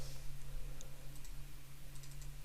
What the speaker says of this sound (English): I guess I have to work hard here and actually type something